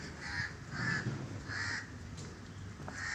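Crows cawing outside a school, several harsh repeated calls in an uneven rhythm over steady outdoor background noise, moderately near.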